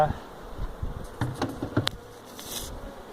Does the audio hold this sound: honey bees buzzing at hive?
yes